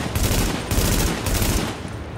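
Rapid bursts of automatic gunfire from the shooter game The Division ring out in dense, loud volleys, three clustered strings of shots with brief gaps between them.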